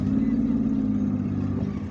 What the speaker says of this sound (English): Traffic is progressing slowly